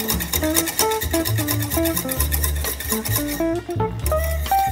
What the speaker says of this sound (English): So once you can whisk this all out,